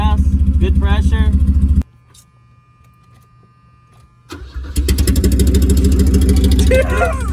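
A 1984 Mercedes wagon with a manual gearbox, left sitting for ten years, cranks and catches partway through after a quiet pause, then settles into a loud, steady idle close by while people talk around it.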